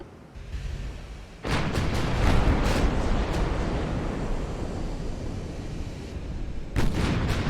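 Battleship guns fire in the naval game Ultimate Admiral: Dreadnoughts, a loud sudden blast followed by a long rolling roar, with another sharp report near the end.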